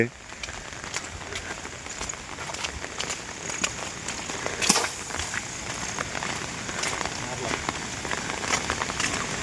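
Heavy rain pours steadily beside a swollen river in the Konkan, a dense, continuous hiss of drops hitting surfaces, close and unbroken, with one brief sharper crackle partway through.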